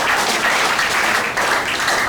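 A church congregation claps together, a loud, dense burst of many hands with a slight dip midway and no voices over it.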